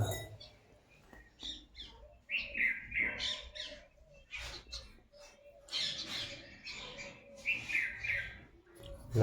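Birds call in a village where a peacock is about, with repeated bright cries and squawks at moderate distance and faint background noise.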